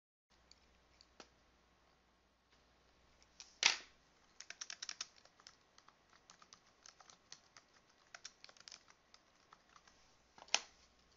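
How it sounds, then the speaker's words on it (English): Typing on a computer keyboard: quiet, irregular clicks and taps in short bursts, with a couple of louder knocks, in an otherwise silent room. "I think I'll just type this in."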